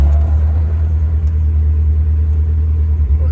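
A Morris Minor engine under head gasket repair revs hard and holds a loud, steady high-speed drone with a deep rumble, close by, with no talk over it.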